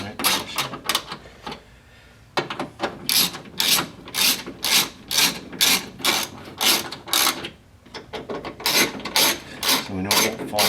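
A ratchet wrench snugs the window fasteners inside the door of a 2006 Scion xB, rapid clicking in repeated bursts of strokes at close range, with a short pause between sets.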